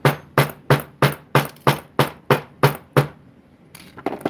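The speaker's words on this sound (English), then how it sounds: "And then I'm gonna hammer up to the loop." Metal wire being hammered for a jewelry stone setting, about nine sharp, evenly spaced ringing strikes close up, then a pause and a few quicker lighter taps.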